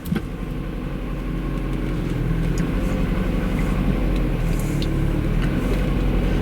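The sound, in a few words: car engine idling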